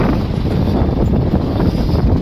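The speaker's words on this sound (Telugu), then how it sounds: "ప్రకృతి అందమైనది, గాలి ఎక్కువైనది." Strong wind blowing outdoors, a loud, continuous buffeting roar of gusts striking the microphone throughout, with no talk.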